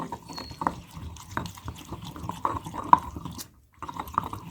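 A spoon stirs yogurt (dahi) into samosa chaat, giving soft wet squelches and light clinks in an irregular rhythm, close and quiet, with a brief pause near the end.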